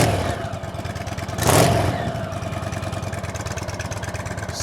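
Indian motorcycle with stock exhaust revs close by against a wall, a steady throbbing engine rumble rising into one brief louder blip of throttle before settling back to a rhythmic idle.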